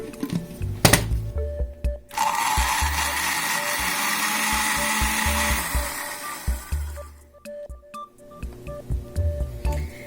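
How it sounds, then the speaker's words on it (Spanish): A blender grinds tomato, chili pepper, onion and garlic with a little water, a steady loud whir running several seconds between knocks and clatter from the kitchen before and after. "Molemos nuestro jitomate con el chile, la cebolla y su ajo"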